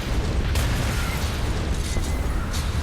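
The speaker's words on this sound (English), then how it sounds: "Well, those are gonna explode." A building blows up in Hitman: Absolution, a loud rumbling explosion with a sharp crack at the start and sustained low roaring debris for the remaining few seconds, with no talk.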